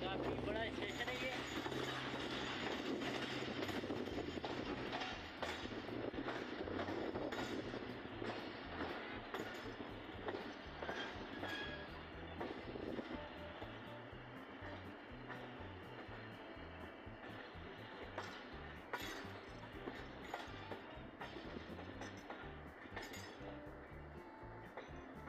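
Train pulling into the large Kotri railway station on the Karachi–Hyderabad line, with steady rumble, rhythmic wheel clatter and metallic clinks throughout, loud and close, fading slightly as it slows; voices talk over it.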